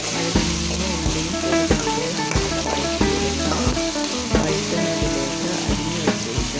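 Eggplant and onion sauté in a hot pan for a Kerala eggplant theeyal, a loud continuous sizzle broken by regular, rhythmic scrapes and knocks of a stirring spoon, close up with no voices.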